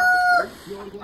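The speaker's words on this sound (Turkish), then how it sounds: "Sağlıklı bir şekilde tavuklarımız özgür bir şekilde dolaşmakta." Free-range chickens in an open farmyard, a sharp high crow or cackle at the start followed by lower clucking, close and fairly loud within about a second.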